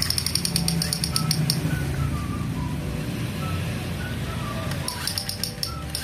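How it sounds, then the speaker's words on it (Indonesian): Children's toy gun giving off electronic sounds: a repeating chirpy high beep pattern with sliding warbling tones over a steady low hum, loud and continuous throughout. "Dan senapan ini bisa bunyi loh teman ya, kita coba."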